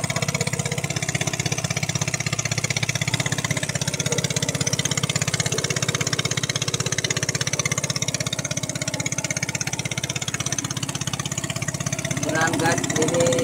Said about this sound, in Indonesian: Jadi mesin yang dipakai ini mesin pada umumnya cuma bahan bakarnya menggunakan